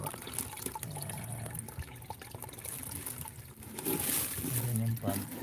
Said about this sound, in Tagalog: Ayan yung pump. I-rotate yan. Circulation.